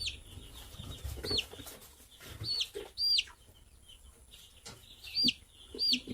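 Several short, high peeping calls from chicks, spaced irregularly over a low background hum, fairly close and moderately loud.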